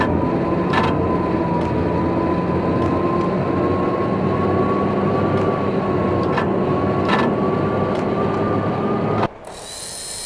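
A train in the video game Max Payne rumbles past in a steady, loud, dense roar with a sustained tonal whine and periodic clanks, running for several seconds before cutting abruptly to a quieter, thinner hum.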